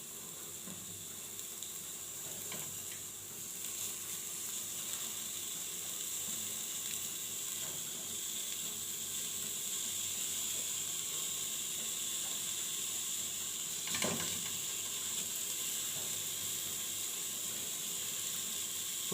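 Cauliflower frying in a pot with rice: a soft, steady sizzle and hiss throughout, with a few faint crackles and one small pop, low in level and without talk.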